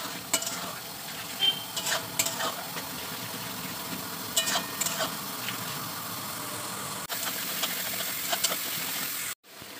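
Ginger and garlic paste with spices frying in oil for Bengali aloo dum, a continuous close sizzle broken by scraping stirs, ending abruptly.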